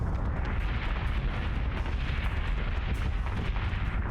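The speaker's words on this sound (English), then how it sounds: "There's the nuke that hit." Nuke explosions in the space combat game Battlestar Galactica Deadlock produce a dense, continuous roar of booming blasts and rumble, loud and without any voices.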